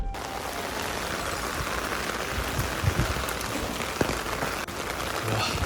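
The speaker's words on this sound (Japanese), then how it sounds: "うわ、まさかの雨" Heavy rain pours steadily in a shopping street in Saiki, Ōita, a dense, even hiss of drops on surfaces with a few louder splashes and a faint voice in the background.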